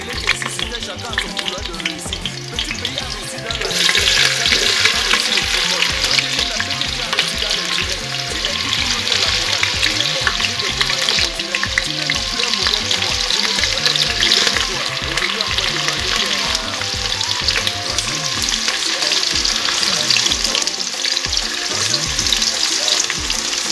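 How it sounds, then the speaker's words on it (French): Onions tipped into a heating pot of water while making bean-flour fritters: a quiet moment, then a sudden rush of sizzling, splashing sound that carries on loud and steady to the end. "nous allons d'abord verser les oignons dans l'eau"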